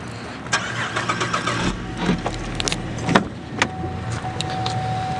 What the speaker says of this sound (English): It is equipped with remote keyless with remote start.